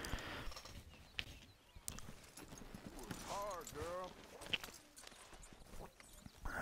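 A horse's hooves clip-clop in steady, close footfalls in Red Dead Redemption 2, with a brief whinny partway through and talk running over the sounds.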